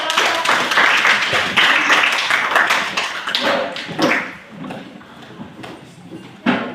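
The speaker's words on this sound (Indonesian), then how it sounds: "Kita berikan tepuk tangan untuk" A classroom of students claps in brisk, sustained applause that is loud at first and fades after about four seconds, with a few voices mixed in.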